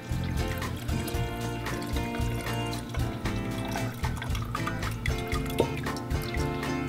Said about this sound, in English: Now we're going to pour off all this grease